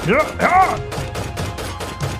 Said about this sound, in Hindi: बदमाशों के हथियार हरकत में आते इससे पहले चली पुलिस की गोलियां